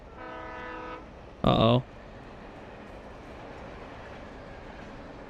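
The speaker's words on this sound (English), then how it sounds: "Train." A train in the video game Alan Wake Remastered sounds a brief, loud horn-like blast amid a low rumbling bed, preceded by a sustained tonal hum; a voice speaks briefly.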